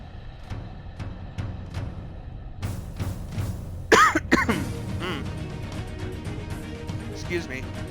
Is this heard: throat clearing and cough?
yes